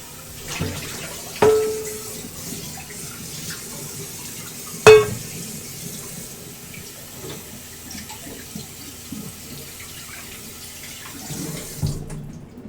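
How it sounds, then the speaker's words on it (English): Cold tap water runs into a kitchen sink to rinse cooked rice noodles, a steady soft splashing with two sharp clinks of dishware near the start and middle and another knock near the end. "I'm going to rinse these noodles with cold water now."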